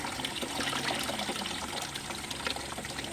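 Water poured out of a vessel while grains are washed by hand in a village, trickling and splashing unevenly and fairly close, with no talking.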